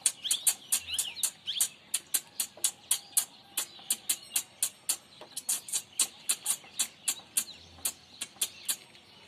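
A man mimics a small bird's rapid chirping, a steady run of bright, sharp tweets in quick rhythm, close and clear with no other voices.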